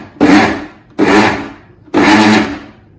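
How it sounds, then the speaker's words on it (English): A mixer grinder (mixie) runs three short bursts on chhena for ras malai. Each burst is a loud, gritty whir that starts abruptly and dies away, with brief pauses between them and nothing else heard. "Now see, in the mixie you have to do 4 times."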